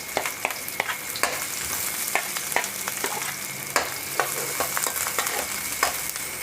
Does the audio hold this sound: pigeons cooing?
no